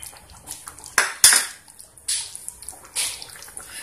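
A spoon clinks and scrapes against a pot as curd is stirred into a restaurant-style mixed vegetable curry, with a few sharp metallic taps and soft wet stirring sounds, close and moderately loud.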